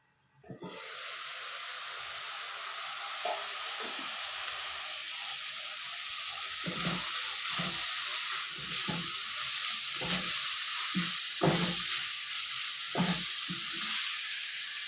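Cassia leaves (thagara chapp) cook in a pan with a loud, steady sizzle that starts abruptly, and rhythmic stirring scrapes join in over the second half. No voices.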